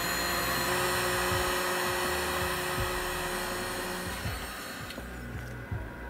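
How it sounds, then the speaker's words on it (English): Heat gun blowing a continuous loud airy roar with a steady motor hum onto half-inch drip irrigation tubing to straighten it, close and uninterrupted, with a few faint handling knocks and no talk. "Hit it with the heat gun to make it nice and straight."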